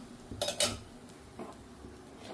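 Fried purnam burelu being lifted from the oil with a slotted spoon onto a perforated plate, a few sharp metal clinks and scrapes over a faint background sizzle, close and without speech.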